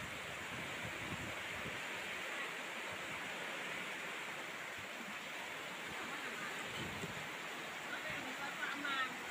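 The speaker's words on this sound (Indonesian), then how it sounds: "Setelah itu, tambahkan air putih panas," Hot water pours steadily into black coffee, a continuous broad rushing splash that stays fairly loud and even for several seconds, with no talking over it.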